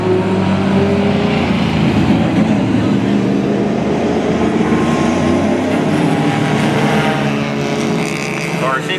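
Closed-wheel race cars circulate a track at Mission Raceway behind a pace car, a dense, continuous engine roar of several vehicles passing close and loud.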